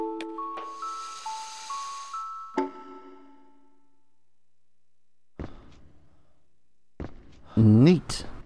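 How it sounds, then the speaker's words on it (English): An old wooden music box in the video game Echo Night: Beyond plays a short tinkling tune at first, then falls silent; speech and other game sounds follow later. "Old wooden music box."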